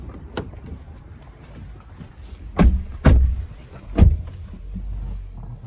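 People getting into a VW Tiguan 250 TSI SUV, a few faint clicks and rustles followed by three solid door thumps about half a second to a second apart, near and loud, with a low interior hum afterward.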